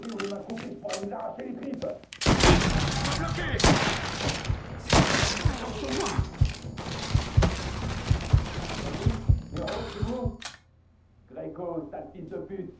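Heavy gunfire in the Mafia III video game on PS4, a dense, loud fusillade of rapid shots lasting several seconds, with a voice talking before and after the burst.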